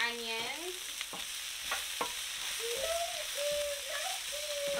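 Onions for fajitas fry in a pan with a close, steady sizzle, broken by stirring scrapes and clacks, while faint tonal squeaks and whistles rise and fall above it.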